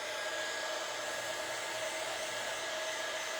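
A hair dryer blowing steadily to dry white paint on a craft piece, a constant close whooshing drone with a faint tonal whine and no breaks.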